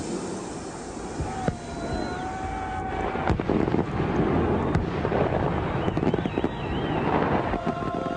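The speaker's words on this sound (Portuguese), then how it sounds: "Fogos de artifício." Fireworks explode outdoors, a string of sharp cracks and booms at irregular intervals over a steady roar of wind and crowd noise, with whistling rockets rising and falling in between.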